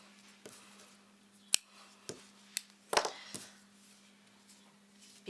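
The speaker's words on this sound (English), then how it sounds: "So taking our yarn, again, cutting that." Scissors snip through yarn during crochet work, a few quiet, crisp clicks spaced irregularly over a steady low hum, with no talk.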